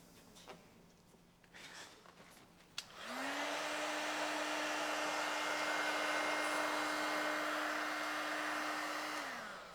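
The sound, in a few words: heat gun heating vinyl wrap on Tesla door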